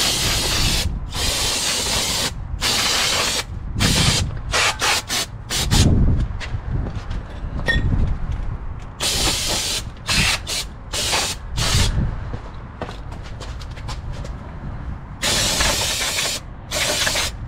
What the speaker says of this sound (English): So just spray the brake cleaner all over